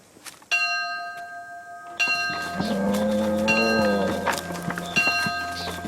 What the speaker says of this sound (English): Every morning, except Sunday, the bell rang at 6 o'clock.